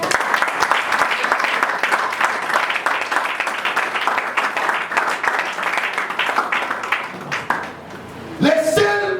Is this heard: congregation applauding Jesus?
yes